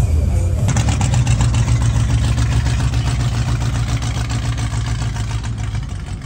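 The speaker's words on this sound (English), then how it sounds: "Dang, the idle's crazy on that." A V12 car engine idles close by, a steady, loud low rumble that holds throughout with a slight drop toward the end, with voices faintly present.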